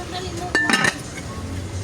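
A cooking pot of rice and metal utensils clink and clatter in a home kitchen, a short cluster of sharp bright knocks in the middle over a low background murmur.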